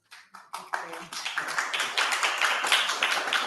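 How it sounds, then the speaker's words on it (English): An audience at a public budget open house in St. Pete applauds: a few separate claps grow quickly into dense, steady clapping from a crowd in an indoor hall. "Folks, if you could hold your applause, please."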